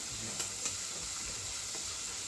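Onions and green chillies fry with prawns in a pan, giving a soft, continuous sizzle and hiss at low level with a couple of faint stirring taps, no talking.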